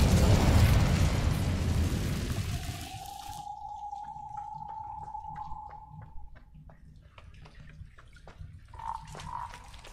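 A fire spell is cast in a video game, opening with a loud whooshing burst that settles into a sustained tonal hum, followed by sparse crackles and a couple of brief magical chimes near the end. No talking.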